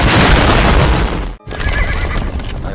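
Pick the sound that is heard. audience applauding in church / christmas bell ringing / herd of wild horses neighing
herd of wild horses neighing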